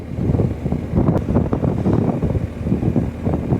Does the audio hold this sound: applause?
no